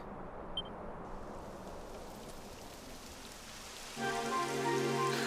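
Steady rainfall in the video game Dragon Quest XI hissing on surfaces, fairly soft and continuous, with tonal music rising in toward the end.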